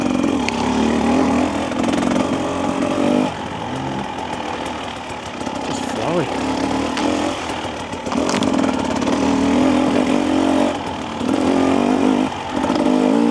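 A Husqvarna TE300 dirt bike engine pulls steadily in third gear on a ride, a loud, continuous two-stroke drone with slight rises and dips in revs, close to the microphone and with no talk.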